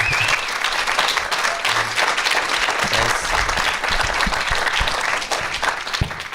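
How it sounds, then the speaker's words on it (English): A festival audience at a documentary Q&A at IDFA 2013 applauds two filmmaker brothers, producing sustained, loud, thick clapping that fills the room evenly before thinning slightly near the end. "one more time, an applause for our brother filmmakers, the Riahi brothers."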